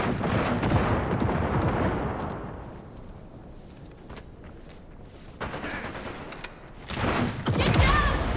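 Frag grenade blasts and gunfire in the shooter game Caliber, loud rumbling bursts at the start and again near the end, with quieter scattered shots and clatter between.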